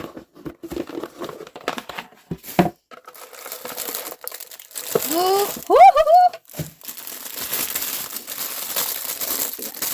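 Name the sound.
opening plastic foil wrapping while unboxing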